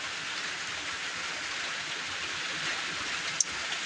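Steady rain pouring down in a continuous hiss, with one brief sharp tap near the end.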